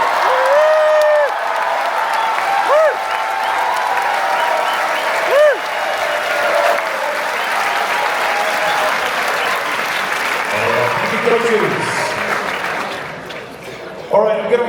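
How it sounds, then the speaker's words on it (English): A crowd at the IASAS 2026 closing ceremony in Bangkok cheers and applauds loudly, with whoops and whistles over dense clapping. The noise holds for about ten seconds, then fades as a voice takes over on the PA. "this will be the loudest cheer, I hope."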